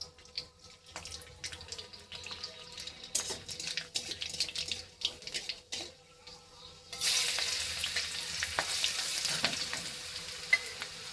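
Garlic and nigella seeds sizzle in hot oil, starting with light crackles and clinks and then building into a louder, steady hiss of frying from about the midpoint.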